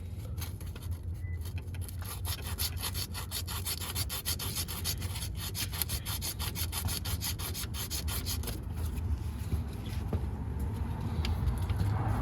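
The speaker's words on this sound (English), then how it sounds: "And now I get the sandpaper the kit comes with. I'm gonna clean this post very, very well." Continuous rhythmic rasping of sandpaper rubbed back and forth against a metal post on a car's shifter, close and steady throughout.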